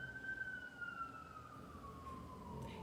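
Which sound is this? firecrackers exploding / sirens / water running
sirens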